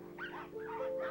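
Chihuahuas from a large, unsocialized group kept by an unlicensed breeder yip and whimper in rising, wavering high cries, several overlapping in quick succession without pause, fairly close and steady in level.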